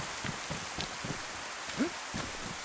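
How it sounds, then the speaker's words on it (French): Steady rain in the video game DayZ hisses continuously, with scattered soft taps and patters of drops landing nearby. "Il fait jour, mais on peut pas en profiter parce qu'il pleut tout le temps."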